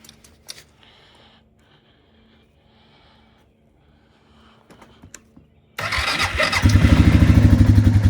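A Suzuki Quad Runner ATV, choked and primed after hard starting, is cranked with a few short clicks and sputters in near quiet before firing up and settling into a loud, steady, close idle.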